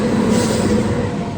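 Island Express, a train bound for Kanyakumari, rumbles steadily into Bangalore Cantonment station, a continuous low rolling drone with broadband rail noise holding level throughout.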